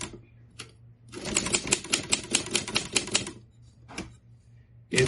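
A Royal Empress manual typewriter clatters through a quick run of about a dozen crisp keystrokes, followed by a few isolated strikes in an otherwise quiet room.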